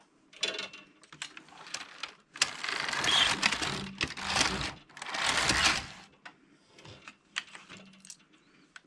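A Passap E6000 knitting machine carriage runs two passes across the needle bed, giving bursts of rattling, whirring clatter separated by short pauses.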